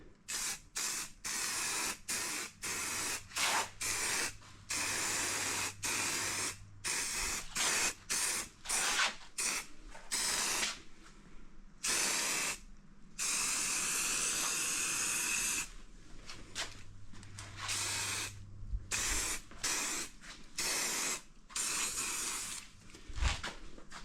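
Spray gun dusting a light coat of grey paint on boat fittings, a steady close hiss in long bursts broken by short pauses, with no talk.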